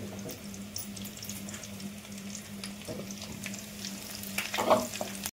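Curry leaves hitting hot oil in a pan for tamarind pulihora, a steady crackling sizzle with stirring scrapes and a louder spitting flare near the end, close and alone without talk.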